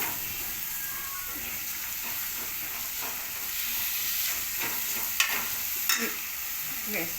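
Green chilies tossed into hot oil with browned onion, ginger and garlic for a ridge gourd curry, giving a steady close sizzle with occasional scraping stir clicks.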